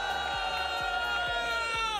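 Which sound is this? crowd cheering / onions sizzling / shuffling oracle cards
crowd cheering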